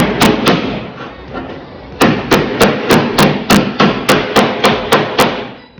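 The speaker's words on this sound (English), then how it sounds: "hammer that down flat, and then I can weld it up." Loud, sharp hammer blows on metal ring out in a steady rhythm against a dolly, flattening a custom rear door on a 6x6 Toyota Land Cruiser 80 Series, a few at first, then a fast regular series of strikes.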